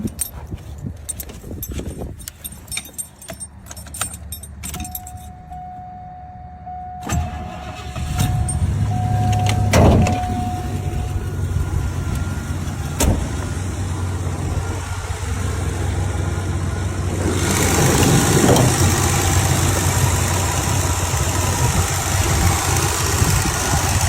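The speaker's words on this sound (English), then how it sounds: "Cold start." A 1967 Oldsmobile Cutlass in Houston, Texas cranks over on a cold start, then settles into a loud, steady idle with a low rumble that carries on close by for the rest of the stretch.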